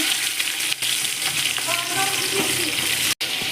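Onions fry for an egg biryani with a loud, steady sizzle close at hand, stirred now and then, and a couple of momentary breaks in the sound, with no one speaking.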